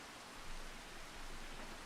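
Steady rain pours in the Farming Simulator 25 farm game, a dense, even hiss of falling water that stays constant and fairly quiet throughout, with no voices over it.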